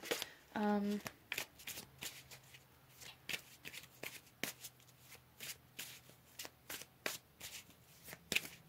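Tarot cards are shuffled up close in quick riffles and sharp snapping flicks, an irregular run of crisp bursts after a brief tonal sound at the start.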